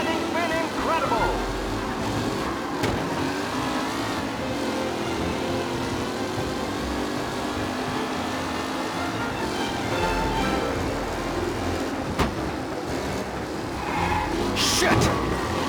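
Race cars roar past steadily in a race in Mafia: Definitive Edition, a continuous dense engine drone with shifting pitch and no breaks, with a voice talking under the noise.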